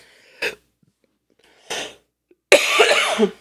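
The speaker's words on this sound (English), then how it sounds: "Coughing. I know. It's been a long day." Someone coughs sharply twice, with a pause between, then breaks into a longer, harsher fit of coughing close to the microphone.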